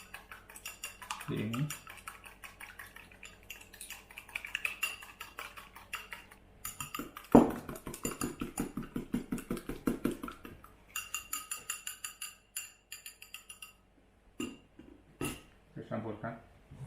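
A utensil stirs eggs in a bowl for surabi kinca batter, giving rapid, close clinks and scrapes in uneven bursts, with a few short spoken words in between.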